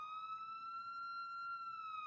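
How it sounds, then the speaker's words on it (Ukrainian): A steady electronic emergency vehicle siren holds one clear, loud tone with bright harmonics, heard alone and close for a couple of seconds, as used with blue flashing beacons. "Це може бути доповнено звуковим сигналом типу сирена."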